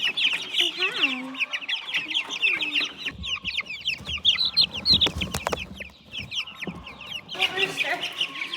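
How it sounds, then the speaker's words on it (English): Chickens and a rooster on a farm cluck and squawk in busy, overlapping bursts close by, with a few louder calls and brief knocking sounds in between. "Hey, rooster."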